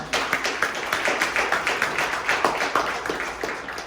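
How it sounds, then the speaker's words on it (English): A small audience applauding a panel at a lunch-and-learn session, clear individual claps in a fairly quick, loosely regular rhythm, close and distinct rather than a dense crowd roar. "let's give our panel a round of applause"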